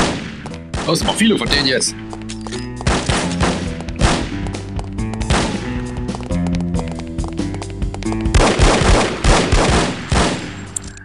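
Bursts of rapid gunfire from enemies in the shooter game No One Lives Forever, loud and repeated in clusters, with someone talking over the shooting.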